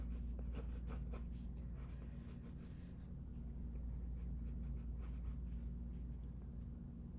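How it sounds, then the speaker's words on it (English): A pen drawing block letters on paper, giving close scratchy strokes in an irregular rhythm over a steady low background hum. "I'm just going to go ahead and draw the rest of these letters."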